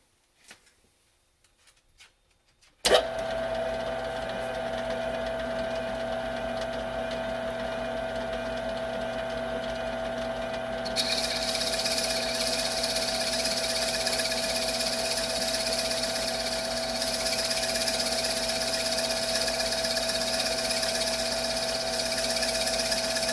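A wood lathe starts with a sudden jump to a steady motor hum after a few quiet clicks, then a harsher, brighter cutting hiss joins midway as a tenon ring is bored on a chuck for a wooden pop box.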